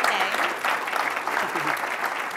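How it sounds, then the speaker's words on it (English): Conference attendees at a business symposium give a panel discussion a steady round of applause. The clapping is full and even throughout, with a faint murmur of voices beneath it. "let's give our panelists a round of applause"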